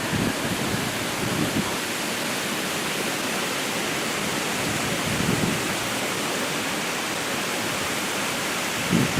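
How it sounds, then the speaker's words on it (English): Steady, broadband roar of a waterfall at Daylight Falls or Canal Falls, rushing continuously and evenly throughout with no pauses. "This is either Daylight Falls or Canal Falls."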